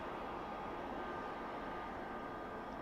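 A small aircraft is in flight with its engine accelerating after takeoff, giving a steady, dense roar that fills the cabin evenly and is heard alone.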